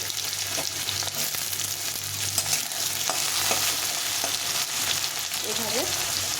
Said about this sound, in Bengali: আলুটাকে দিয়ে একটু ভেজে নিতে হবে ভালো করে।